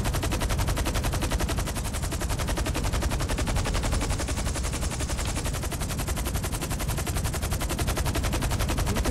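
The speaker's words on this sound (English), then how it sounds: "we got people gonna shoot at us now" Nonstop rapid automatic gunfire in GTA 5 Online, an even machine-gun rattle held at constant loudness throughout, close and unbroken.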